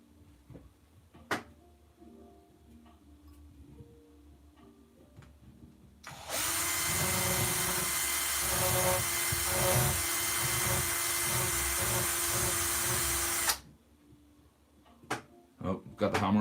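A power drill drills holes in handmade hand parts that could split. Quiet handling noises come first, then one loud, steady, close whir of about seven seconds before it cuts off.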